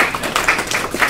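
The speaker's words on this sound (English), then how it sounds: "Round of applause for everybody." Brief scattered clapping from a small class in an engineering lab session, a few uneven claps over about a second, fairly close and not very full.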